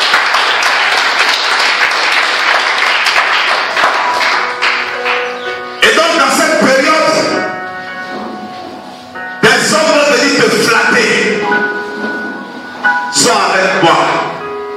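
A church congregation applauds during a sermon, sustained clapping rising in several loud waves over a preacher's amplified voice and music-like tones.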